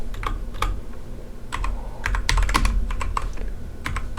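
Computer keyboard keys tapped in short irregular bursts while a file name is typed for a Blender thumbnail, close and clear with brief pauses between clusters of keystrokes and no talking.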